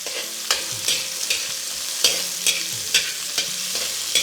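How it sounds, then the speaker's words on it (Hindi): Roughly sliced onions cook in a pan with a steady soft sizzle, punctuated by regular spatula scrapes and taps about every half second, close and moderately loud, with no talking. "हम इसमें डालेंगे लगभग 2 प्याज जो मैंने रफली स्लाइस किए हुए हैं, और इनको करेंगे कुक"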